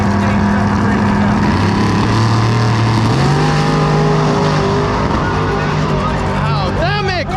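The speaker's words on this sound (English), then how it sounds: "That's a 2019 Corvette 7 chassis, over 900 cubic inches of nitrous-fed goodness." A nitrous-fed 2019 Corvette drag car with an engine over 900 cubic inches launches at a drag strip, a loud, rough engine roar climbing in pitch as it pulls away, with talk over it.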